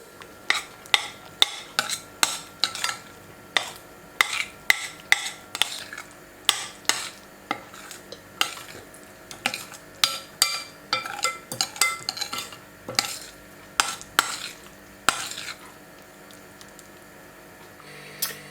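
A Bolognese sauce is stirred in a pan over a low flame, with a quick run of scraping, clinking utensil strokes against the metal over a soft background sizzle, loud and close, with no talking.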